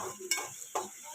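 Onion browning in a pan for a curry sizzles faintly under two distinct sharp stirring scrapes, close and quiet, with no talk.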